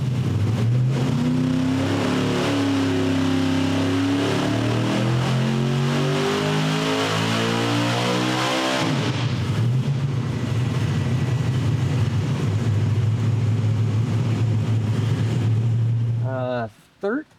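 A small engine under test with a 3D-printed intake manifold revs loudly and steadily, its pitch rising in stepped harmonics for about nine seconds, then holding a high sustained roar before cutting off abruptly near the end.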